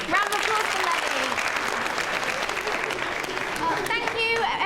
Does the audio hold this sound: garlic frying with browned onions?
no